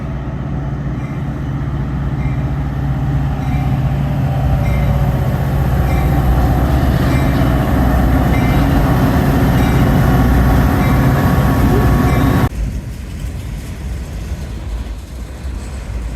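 A Metra BNSF commuter train rolls into Belmont station with a loud, steady rumble and rail noise that holds for about twelve seconds, then drops abruptly to a quieter hum as it slows.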